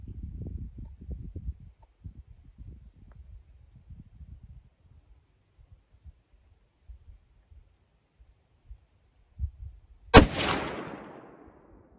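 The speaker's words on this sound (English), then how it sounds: "I don't have the steadiest of shots here." A single loud rifle shot cracks out near the end, sharp and close with a decaying echo, after a stretch of quiet faint handling and rustling outdoors.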